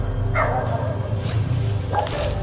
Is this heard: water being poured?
no